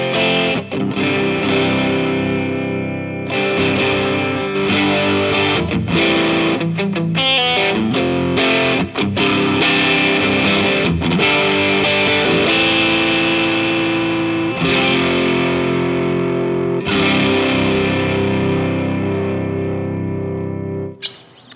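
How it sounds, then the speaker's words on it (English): Electric guitar driven through a Fulltone Fulldrive 2 Mosfet overdrive pedal with its boost engaged, on Mosfet clipping: loud, thick distorted chords and riffs ringing steadily alone without talk. "And then we'll click the boost on,"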